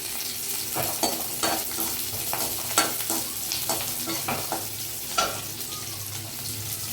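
Garlic and ginger frying in a pan, a soft continuous sizzle broken by regular scraping strokes of a spoon stirring, close and fairly quiet with no talking.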